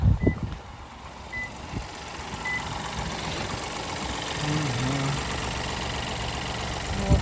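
Three-cylinder M15A engine of a 2021 Toyota Yaris Cross idling steadily, a low continuous hum with a faint background whine, fairly quiet and unchanging throughout.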